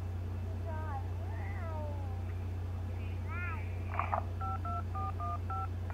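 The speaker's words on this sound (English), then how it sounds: "If you can't talk, please press any digit on your phone," Paired DTMF keypad tones from a phone in a 911 Operator video game sound as four short, evenly spaced beeps near the end, after warbling synthetic chirps, over a steady low hum.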